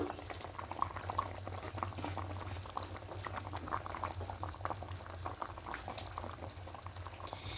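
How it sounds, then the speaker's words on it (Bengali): A pot of curry gravy with cauliflower, potato and omelette bubbles at a steady boil, a dense close burble of popping with a low hum underneath, continuous and with no one speaking. "এদিকে ঝোলটা ফুটতে শুরু করে দিয়েছে"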